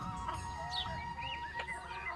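Aseel country hens and a rooster cluck in a shed, giving scattered, moderately close calls over a steady low background hum.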